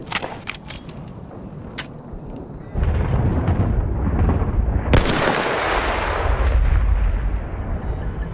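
Gunfire and explosions in the video game Battlefield 1 rumble loudly and continuously, with sharp cracks early and a heavy blast midway.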